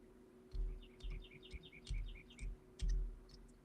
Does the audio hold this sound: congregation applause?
no